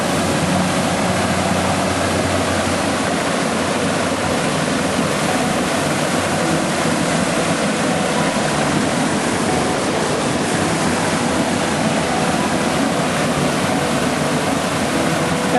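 Loud, continuous rush of pumped groundwater pouring and churning into a canal, a dense steady roar with no pauses.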